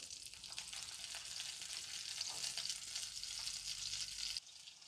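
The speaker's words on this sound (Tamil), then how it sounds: "பாருங்கள் ஃப்ரெண்ட்ஸ், இந்த மீன் ஃப்ரை ஆகுது" Fish with curry leaves sizzles and crackles steadily in a hot pan, a close, dense hiss of frying oil with no voices, easing off slightly at the very end.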